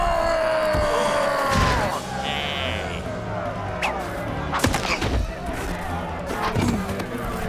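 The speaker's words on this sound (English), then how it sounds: "Aim your windjammers at Dreadwing" Windjammer weapons fire in a Dragon Flyz animated sci-fi action battle, a series of sharp blasts and whooshing bursts amid music and effects, with voices heard between the shots.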